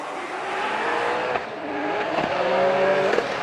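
Drift cars' engines roar and rev close by as they slide through a turn at a Formula Drift Japan event, with a high whine building toward the end.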